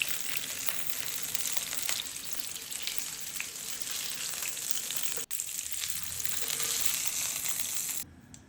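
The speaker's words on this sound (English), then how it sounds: "Add the onion, give it a quick mix, and let it cook." Onion sizzles steadily in a hot pan used for cooking salmon fillets, a loud, continuous close frying hiss with faint stirring that stops abruptly at the end.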